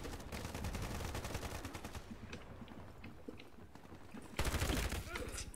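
Rapid automatic gunfire from the online shooter Ironsight, dense bursts of shots crackling throughout, thinning briefly in the middle before a loud renewed burst near the end.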